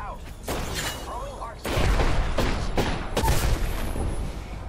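Burst-fire gunshots from a weapon in the battle royale game Apex Legends, loud repeated volleys in quick clusters, with talk in the background.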